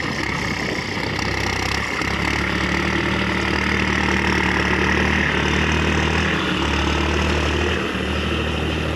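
A John Deere tractor engine running in gear while pushing out stumps, a loud, steady droning rumble with a constant throbbing hum, close by and without speech.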